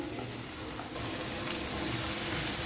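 Vegetables for a bread sandwich filling fry in a hot pan with a continuous dense sizzle and faint stirring scrapes, steady and close throughout with no voices.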